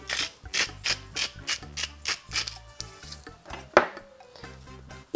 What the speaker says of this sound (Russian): Добавляю черный молотый перец